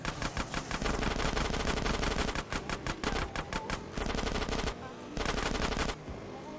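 Rapid bursts of automatic gunfire in GTA San Andreas: Definitive Edition, dense and loud, with brief pauses between volleys and a short gap near the end.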